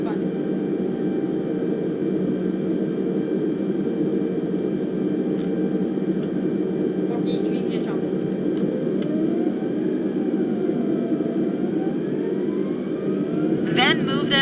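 Jet engines of an airliner in Microsoft Flight Simulator spool up on the runway: a steady, loud drone with a slowly rising and falling whine, plus a few faint clicks and beeps near the end.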